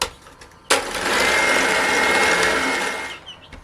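An electric mixer beats Easter cookie dough with vanilla, switching on abruptly and running as a steady, loud motor whir for about two and a half seconds before cutting off.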